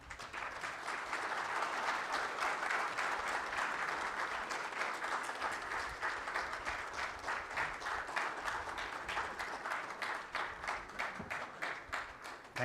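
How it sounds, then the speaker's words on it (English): A plenary session audience gives a sustained round of applause, dense and even, lasting throughout and fading slightly toward the end, with no talk over it. "That was a very resounding round of applause for me"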